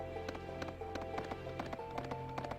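Horse hooves clip-clop in a steady trotting rhythm in the video game Suikoden 3, crisp and close over a looping in-game music bed with no talking.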